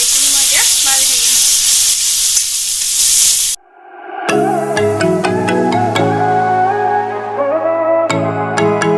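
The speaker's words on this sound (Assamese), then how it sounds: "জালুক জিৰা আৰু এইখিনি পেষ্ট, আৰু এইখিনি মই এতিয়া ভাজি থাকিম।" Jaluk (long pepper) and cumin masala paste frying in oil for a local chicken curry gives a loud, dense sizzle for a few seconds, then cuts off abruptly and melodic music follows.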